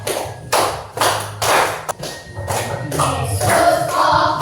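Hands clap in a steady rhythm along with a sung worship song in a classroom. The claps are sharp, evenly spaced slaps mixed with singing voices.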